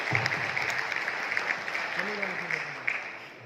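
Applause from an audience at an Inverex product launch event, a continuous wash of clapping with a few sharper claps, while a voice speaks briefly over it.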